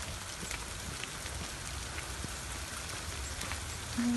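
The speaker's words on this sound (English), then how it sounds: "And it happens to be a rainy day." Steady rain patters on a surface outside a garage on a rainy morning, a dense continuous hiss with scattered droplet taps, moderately loud and without voices.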